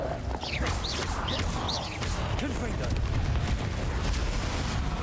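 Explosive spell effects in a Harry Potter video game, with booming blasts and crackling bursts over game music and effects while a voice calls out.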